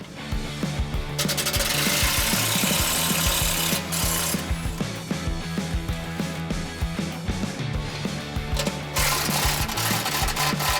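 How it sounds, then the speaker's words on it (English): A 15mm socket wrench or power tool works a front tow-hook bolt on a 2004-2018 Ford F150 truck bumper, giving a loud continuous mechanical rattle and ratcheting buzz that runs nearly unbroken throughout. "So now you're going to use a 15mm socket to remove this front bolt, and we're going to loosen the rear bolt."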